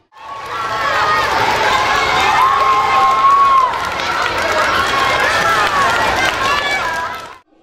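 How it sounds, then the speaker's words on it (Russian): School pupils cheering their teams during a contest at a children's rally, a loud, continuous crowd roar of shouting young voices with scattered clapping, steady throughout before cutting off at the end. "Болельщики поддерживали команды дружными криками и шквалом аплодисментов."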